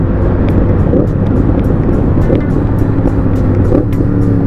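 Engine of a 2020 Yamaha MT-10 motorcycle shown in an indoor showcase, a loud steady rumble with a continuous low drone throughout.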